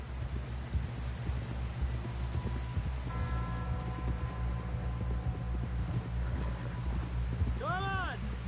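Horse hooves clip-clopping in the Red Dead Redemption 2 video game, a steady rhythmic patter of hoofbeats under a low hum, with voices talking over it.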